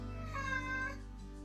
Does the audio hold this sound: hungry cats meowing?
yes